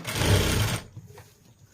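A sewing machine stitches plain cloth in a fast, rapid whirring run that stops abruptly, leaving a few faint mechanical clicks before the clip falls quiet.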